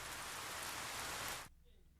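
Steady hiss of rain falling in the game 428 Shibuya Scramble, dense and fairly loud, cutting off abruptly after about a second and a half.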